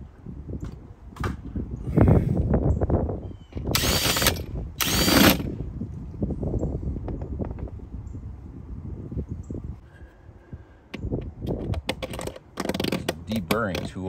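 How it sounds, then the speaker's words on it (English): A power drill enlarges the holes in the gasket unit of a Douglas 12V air conditioner going into a Sprinter van, sounding in two short loud bursts amid handling clatter and tool knocks, then more clatter toward the end. "drill the holes out a little bit bigger"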